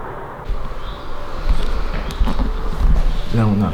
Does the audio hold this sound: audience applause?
no